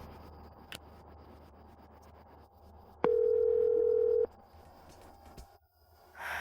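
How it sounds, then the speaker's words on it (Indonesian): A single unanswered telephone ringing tone sounds once, steady and clear for just over a second over a quiet background hum, followed by silence. "Oh, aku mau telepon Vita aja"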